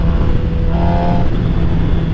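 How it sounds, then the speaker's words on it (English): A motorcycle engine holds a loud, sustained roar as it revs hard during a wheelie. The close, steady drone runs with a slight rise in pitch midway, and no one talks over it. "I'm gonna do one more wheelie just because, like, I've missed it so much."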